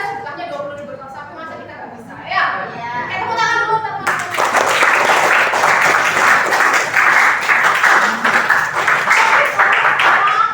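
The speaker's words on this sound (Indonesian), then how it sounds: "Tepuk tangan dulu teman-teman." Students and teachers in a school setting break into applause, steady dense clapping that swells after a voice speaks over the start and keeps going loud and close.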